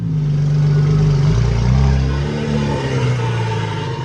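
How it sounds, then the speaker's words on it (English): A 1JZ-powered SC300 with a brake that may be stuck rolls slowly, a close droning engine hum under a rough, grinding drag that shifts in pitch as the car creeps along. "one of the brakes might be stuck"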